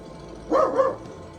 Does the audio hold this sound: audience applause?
no